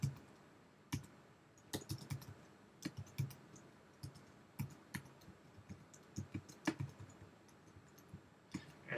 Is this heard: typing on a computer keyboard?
yes